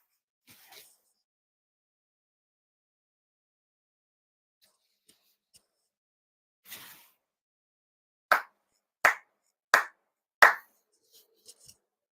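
Four ritual hand claps at a monthly memorial ceremony, sharp, evenly spaced and close, ringing out alone in a quiet room after a few faint rustles.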